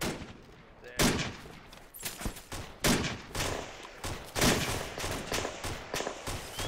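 Gunfire in a military shooter game: sharp rifle shots and bursts crack repeatedly, some close and loud, others more distant, with a brief voice heard among them.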